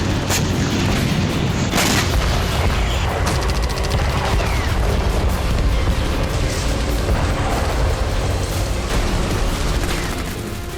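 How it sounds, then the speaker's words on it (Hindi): Artillery shells fired into a buffer zone between North and South Korea, rendered as a constant roar of booming blasts and overlapping gunfire that never lets up, loud and dense throughout. "पूर्वी सागर में 100 से ज्यादा आर्टिलरी फायर किए गए"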